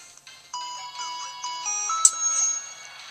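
A mobile phone ringtone plays alone, a bright repeating electronic melody of short chiming notes with one sharp high blip partway through, fairly close and clear.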